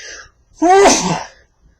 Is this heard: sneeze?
yes